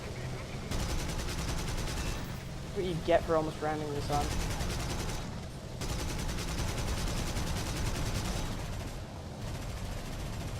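Rapid, rattling gunfire and heavy cannon shots from an aircraft in War Thunder arcade battle, continuous bursts in dense succession, with someone talking over the shooting partway through.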